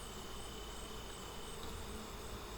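Bees hover around a top bar hive during an inspection, a dense continuous buzzing hum filling the air without pause.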